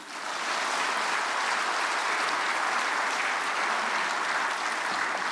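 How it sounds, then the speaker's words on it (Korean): Applause welcoming a pastor to the pulpit at a Korean prayer meeting for peaceful reunification, a dense, steady roar of clapping from a large congregation that swells in quickly and holds throughout. "박수로 환영하시겠습니다"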